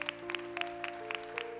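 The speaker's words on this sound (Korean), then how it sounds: "노민우, 이지여 두 분 셀로 넘어가신데 우리 좀 큰 박수를 좀 축복합시다." A church youth congregation at a candlelight service gives a round of applause. The clapping is faint and uneven, with separate claps over a sustained organ or keyboard tone.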